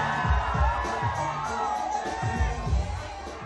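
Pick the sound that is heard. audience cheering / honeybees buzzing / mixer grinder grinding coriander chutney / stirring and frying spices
audience cheering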